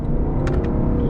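A 2020 Lexus LC 500 engine pulls with a steady low rumble and smooth whir under gentle throttle, with short bursts of higher road or exhaust noise partway through.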